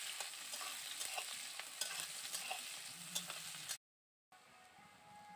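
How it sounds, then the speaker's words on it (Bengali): Chopped onions fry quietly in a pan for potol chingri while being stirred, with a soft, steady sizzle, scraping spatula sounds and a brief silent gap near the end. "দিয়ে দিচ্ছি এবার কেটে রাখা পেঁয়াজ। পেঁয়াজটাকে প্রথমে ভালো করে ভেজে নেব।"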